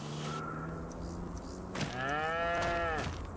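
Cows low in a pasture in Farming Simulator 25, two drawn-out moos in succession, the second longer and richer, heard clearly without talk.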